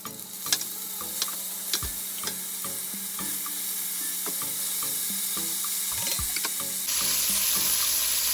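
Turkey necks sizzling as they go into a hot pan, a continuous close frying hiss broken by clinks and scrapes of handling, with no talking.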